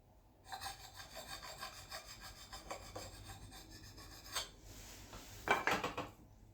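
An axe blade with a handle of white oak being sharpened on an Arkansas stone, repeated close scraping and rasping strokes at a steady rhythm, growing louder near the end.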